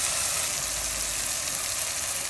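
Onion, tomato, ginger and garlic frying in a pan while spice powders are added, giving a loud, dense, steady sizzle up close, alone without voices.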